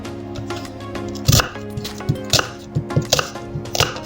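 An onion is finely chopped with a knife for a Lebanese lentil salad, with irregular crisp knife strikes against a board repeating close up and alone over a faint background hum.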